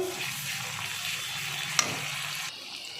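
Paste sizzles in a hot pan with a steady crackling hiss, close by, and a single sharp clink of a utensil midway.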